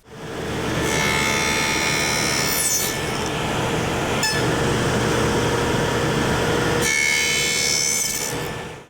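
A power saw, guided along a miter fence, cuts notches in cabinet stock for frameless kitchen cabinets. It gives a loud, continuous whining buzz that shifts slightly as the blade passes through the wood, heard up close with no talking.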